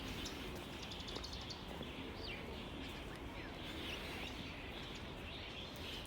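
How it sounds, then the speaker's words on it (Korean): Birds chirp and tweet in scattered short calls across a park in Changzhou, Jiangsu, China, by water with a few buildings, set over a steady low outdoor background hum. "새들이 지저귀고"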